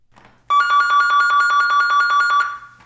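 A CapTel 2400i captioned telephone rings with an incoming call, a loud, close electronic trill of rapid pulses lasting about two seconds before stopping, with no talk over it.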